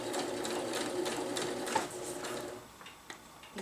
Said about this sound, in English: We're going to run a straight stitch down both sides of this casing